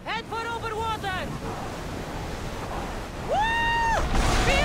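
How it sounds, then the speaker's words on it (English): Wind and surging waves on open sea in the video game Assassin's Creed Odyssey, a steady loud rushing wash that swells near the end, with tonal voice-like calls rising above it at the start and near the close. "Feel that wind!"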